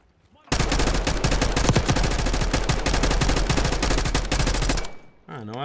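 Sniper gunfire in a video game: a loud, dense stream of rapid shots rattles on for about four seconds without a break, then cuts off abruptly.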